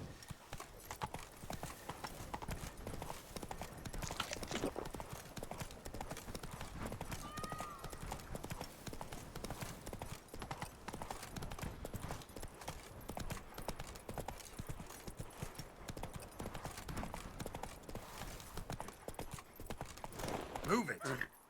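Roach, a horse in The Witcher 3, gallops with steady, rapid clip-clop hoofbeats running through the whole stretch, mixed with game ambience and a voice speaking over it.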